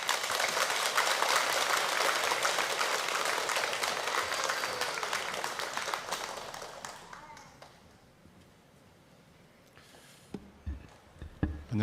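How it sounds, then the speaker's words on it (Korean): A church congregation at a Wednesday prayer meeting claps loudly to welcome a missionary, dense applause for about seven seconds that thins and fades into quiet room noise with a few scattered knocks. "우리 나오실 때 우리 큰 박수로 맞이하겠습니다"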